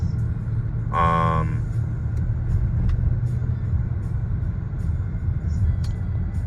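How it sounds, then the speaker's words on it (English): Supercharged V8 engine of a 2017 Range Rover running, a steady low rumble throughout, with a brief tonal whine near the start and a few faint ticks, heard without talk. "I love the engine in this car. This is the supercharged V8."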